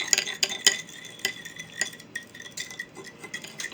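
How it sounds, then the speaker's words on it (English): Barbecue sauce glaze for baby back ribs being stirred in a pot, the utensil clinking and scraping against the sides in quick, irregular strokes, close and clear with no talking. "What you want to do is just stir it where you can get"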